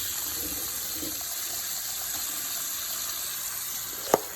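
Warm water runs steadily from a kitchen tap to thaw food, a constant close hiss that ends with a brief clink.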